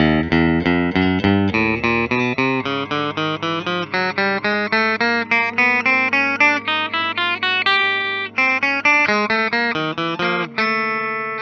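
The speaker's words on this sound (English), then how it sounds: "let's go ahead and plug this one in and hear what the tones are like" A 1982 Fender Stratocaster electric guitar plays a quick run of plucked notes, one after another, loud and close, ending on a held note.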